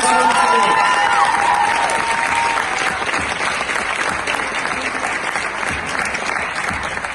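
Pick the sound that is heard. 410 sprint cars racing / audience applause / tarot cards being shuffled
audience applause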